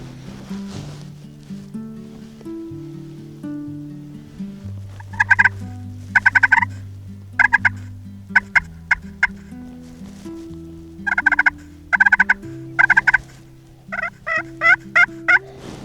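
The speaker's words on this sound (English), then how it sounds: "I heard a tom gobble on the other side of the river" Wild tom turkeys gobble repeatedly from across a river in Iowa woodland, with about a dozen loud rattling bursts in irregular clusters over steady low tones from a call or background, no talking.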